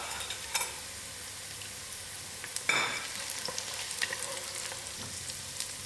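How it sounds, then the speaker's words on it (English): Onions sizzle in a pan as a cinnamon stick and clove drop in, giving a steady frying hiss with a brief louder splash of sizzle midway and a few light clicks, no voices. "I'm going to add in my cinnamon stick and my clove."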